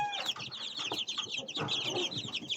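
Chicks kept for sale chirp in a dense, continuous chorus of high peeping calls, close by and fairly loud, with soft rustling beneath.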